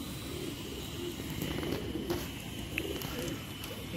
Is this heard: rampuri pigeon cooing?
yes